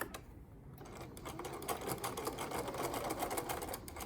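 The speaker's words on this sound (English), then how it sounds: "I'm ready to sew a straight seam" A sewing machine stitches a straight seam along pinned fabric held wrong sides out, a steady fast mechanical whir with rapid needle clatter running close and continuous for about four seconds.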